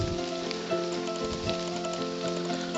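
Drizzling rain falls steadily in a humid creekside family graveyard on Injune Creek, a soft continuous patter and hiss with faint scattered drops, heard up close and alone.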